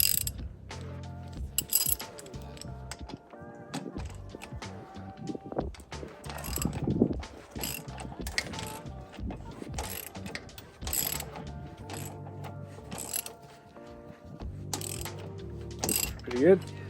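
Ratchet wrench clicking as it loosens the track lock nuts on a Polaris 325, with bursts of rapid ratcheting and clanking metal tool noise, close and fairly loud, on and off throughout.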